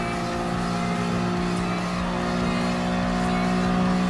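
A Honda S660 kei car races on the final lap in Gran Turismo Sport, its engine note a steady, loud, sustained drone at high revs, with no breaks or talking.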